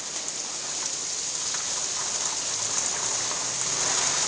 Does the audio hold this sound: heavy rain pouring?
yes